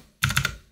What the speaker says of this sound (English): let's go ahead and type in SC